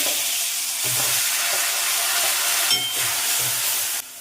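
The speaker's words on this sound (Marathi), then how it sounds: "त्यात आता ही आपण खिसून घेतलेली काकडी घालायची" Grated cucumber with its water dropped into hot oil tempered with asafoetida, curry leaves, turmeric and reddened garlic, giving a loud, steady sizzle and hiss, broken by a few scraping stirs.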